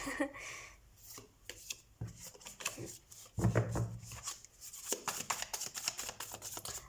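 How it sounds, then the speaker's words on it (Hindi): A deck of tarot cards is shuffled close by, a run of quick papery riffles and soft slaps in irregular bursts, with a few louder flutters in the middle. "तो सबसे पहले हम कार्ड शफल कर लेते हैं।"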